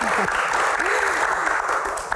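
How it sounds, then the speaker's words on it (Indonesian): Audience applause during a Q&A event, a continuous wash of clapping with a voice speaking over it and a few vocal exclamations. "terima kasih, tepuk tangan buat Mas Haris"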